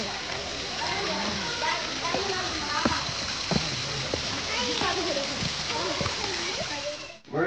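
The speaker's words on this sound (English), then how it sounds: "So here a small waterfall is there." A small waterfall near hillside temples pours in a steady rushing splash, fairly close and continuous, with no one talking over it.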